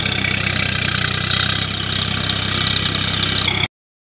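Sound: Swaraj 744 FP tractor engine running with rotor attached

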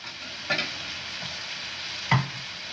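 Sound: stirring stewed sausage frying in a pan

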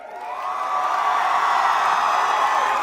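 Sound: audience clapping and cheering

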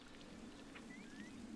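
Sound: rainbow rain falling in video game Chicory: A Colorful Tale

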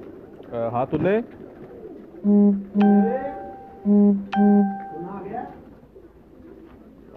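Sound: pigeons cooing

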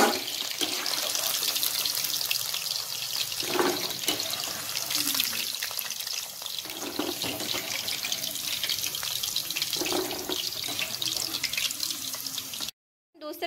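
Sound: chicken frying in oil

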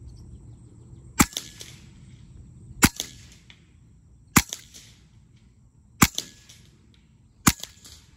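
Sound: AEA HP Carbine .30 cal air rifle shots

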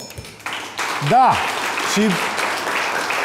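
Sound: studio audience applause

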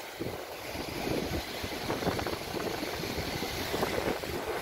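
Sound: afternoon wind at sea

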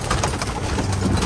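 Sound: Belgian and Dutch pigeons cooing on a rooftop

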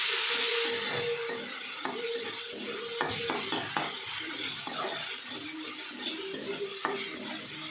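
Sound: chopped tomato sautéing with fried onions in a pan

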